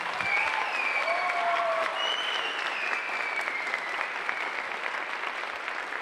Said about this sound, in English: Let's give Ane and the homies another round of applause